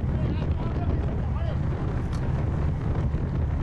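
Strong crosswind buffets a bicycle racer in an amateur road race, a loud continuous low roar of wind against the microphone with little letup, while a rider's voice talks over it.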